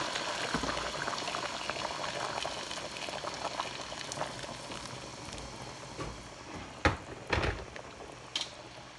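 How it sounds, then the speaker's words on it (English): Liquid bubbles and gurgles steadily at low volume, followed by a few brief louder splashes of boiling water being poured into a pot near the end. "I'm just gonna add my boiling water to this"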